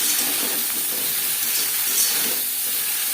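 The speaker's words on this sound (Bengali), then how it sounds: "ফুলকপির সাথে আলুও হালকা করে ভেজে নেব" Boiled potatoes and cauliflower, seasoned with salt and turmeric, frying lightly together in a pan, heard as a steady, close sizzling hiss with faint crackles throughout and no voices.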